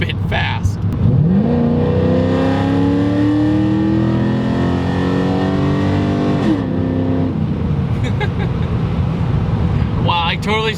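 An F-body Camaro SS V8 with SLP exhaust revs up and accelerates hard, its pitch climbing through several gears, loud and close, with brief voices near the end.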